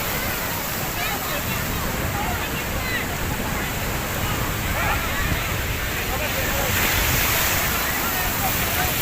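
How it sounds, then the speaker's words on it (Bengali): Sea surf rolling in at Puri beach, a steady broad wash of breaking waves close by with wind noise over the microphone and a busy crowd in the background. "জলের এতটা স্রোত কত উপর থেকে আসছে।"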